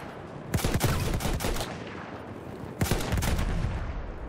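Battlefield 1 gunfire, two loud clusters of rapid rifle and machine-gun shots with a short gap between them, close and punchy over battlefield din.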